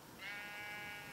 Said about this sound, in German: Ich sehe es nicht, aber ich höre es.